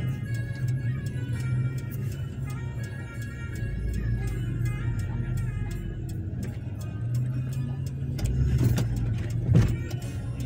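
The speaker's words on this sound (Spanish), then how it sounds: "Casi se chocan los carros porque hay muchos carros." Cars roll slowly in heavy traffic beside a busy park during Christmas in Santa Eulalia, a close, continuous engine rumble with faint ticking and clicks over it.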